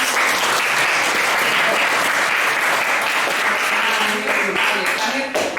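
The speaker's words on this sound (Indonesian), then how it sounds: "Tepuk tangan." Sustained, loud applause from a classroom of students after a group presentation, dense and even throughout with a faint voice underneath.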